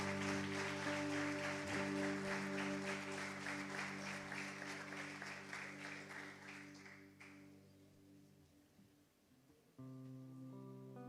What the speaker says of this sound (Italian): Possiamo fare un applauso?